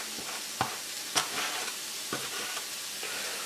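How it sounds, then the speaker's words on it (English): Onions cooking in a pan hiss with a soft, steady sizzle, broken by a few sharp knocks and scrapes of a utensil at close range. "Along with your onions. Just want to cook these a bit."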